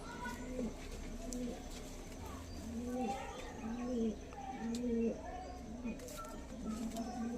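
Tournament flying pigeons kept at a home loft coo in repeated low rolling phrases, about six in a row, fairly close, while people talk faintly in the background.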